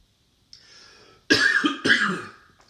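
Loud, close coughing: a harsh double cough after a brief breathy rasp, then a trailing wheeze.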